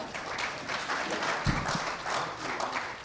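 An audience at a software presentation breaks into applause, a steady wash of many hands clapping at moderate volume, with a faint voice briefly underneath.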